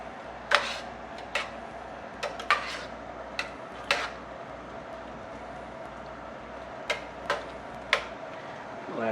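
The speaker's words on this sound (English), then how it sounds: "give it a stir" Spoon scraping and clinking against a pot of diced tomatoes being stirred, a scattering of sharp ticks at irregular intervals over a quiet, low background hum.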